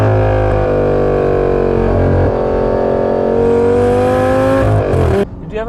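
A 2012 Lamborghini Gallardo LP550-2 engine roars loudly up close with strong harmonic tones, steps down in pitch through downshifts, and climbs once more before cutting off sharply near the end.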